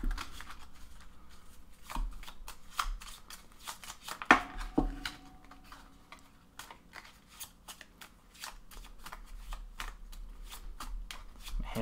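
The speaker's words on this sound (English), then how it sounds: "we're gonna do a quick shuffle" A deck of trading cards being shuffled by hand, with repeated quick riffling and snapping bursts in an uneven rhythm, close and fairly crisp, with no talking.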